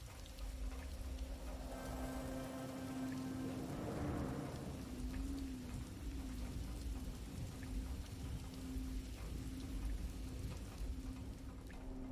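Steady rain falls at night, a dense, even hiss that runs the whole time, joined briefly near the middle by a low, distant roll of thunder; no voices.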